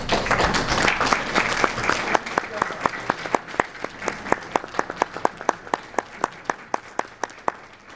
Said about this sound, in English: I would like at this time, to give him a round of applause